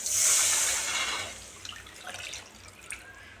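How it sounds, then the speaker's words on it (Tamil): Water pours into a cooking pan of dried fish thokku in a bright hissing splash at first, then trickles and drips as the flow tapers off, followed by small clinks. "இப்போ வந்து தண்ணி சேர்த்திக்கலாம்"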